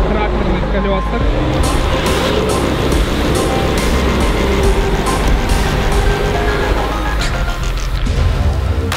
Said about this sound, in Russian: Пробует патрол за Бигфутом на тракторных колесах